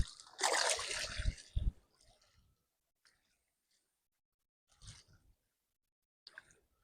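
A channel catfish is let go into river water with one loud, close splash and slosh that quickly dies away, followed by a few faint drips and soft handling noises.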